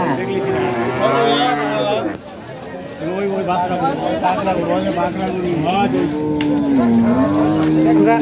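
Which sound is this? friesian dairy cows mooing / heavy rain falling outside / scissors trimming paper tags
friesian dairy cows mooing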